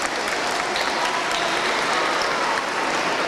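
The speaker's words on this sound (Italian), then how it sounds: "facciamogli un applauso" Steady, dense applause fills a hall as an audience at a diocesan youth oratory gathering claps for a child called up front, sustained and even throughout with no voices standing out.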